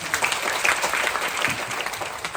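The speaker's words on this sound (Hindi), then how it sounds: "एक बार जोरदार ताली बजाओ" Loud, dense applause from a crowd at a Jan Suraaj padyatra camp gathering in Bihar, steady clapping throughout without pause.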